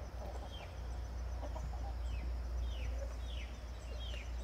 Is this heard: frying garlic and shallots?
no